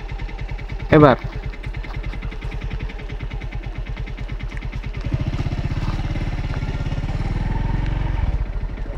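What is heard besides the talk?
motorcycle engine pulling away during a riding lesson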